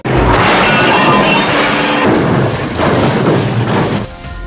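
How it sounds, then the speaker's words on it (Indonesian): Cars smash and crash loudly in a film chase, with dense, booming impact noise filling the whole stretch and a final jolt near the end. "Max lalu memacu mobilnya dan menabrak dua mobil yang mengejarnya tadi."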